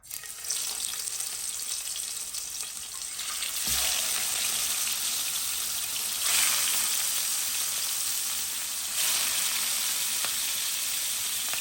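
Fish frying in hot oil in a frying pan, a steady loud sizzle throughout with brief surges as pieces settle, no voices.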